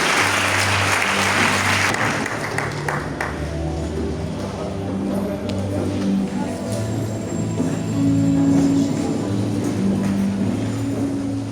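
A church congregation at a financial education seminar breaks into loud applause for about three seconds, then the clapping thins and gives way to sustained music that fills the rest of the clip.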